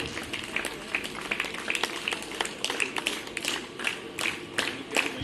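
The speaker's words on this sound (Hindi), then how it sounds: "शाबाश, ऐसे ही तालियां बजती रहें" Audience claps at a school teacher honour ceremony in Haryana. Scattered, uneven clapping runs throughout with sharp taps rising above a continuous wash of hand noise, and faint voices sit underneath.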